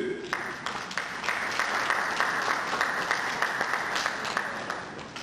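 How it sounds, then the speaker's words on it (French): Steady applause from a crowd at an anti-corruption guide presentation, dense and sustained clapping for several seconds at an even level. "Nous voulons donner l'applaudissement à Petit Massin"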